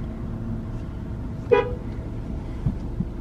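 A truck horn gives one short, fairly loud honk partway through over steady low background rumble, followed by a couple of faint knocks.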